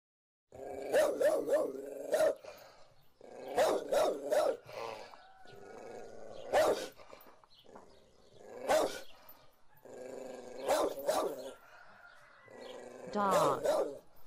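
A dog barks and growls close up in loud, choppy bursts, rapid clusters of barks broken by deep rumbling growls, with no voices.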